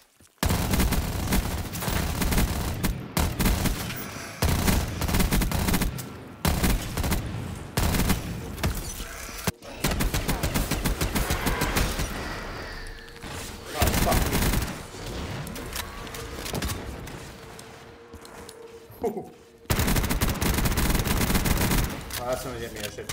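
Rapid MP5 submachine gunfire in a Walmart-themed custom zombies video game: dense, sustained bursts that fill most of the stretch, with brief gaps and a voice talking over the shooting.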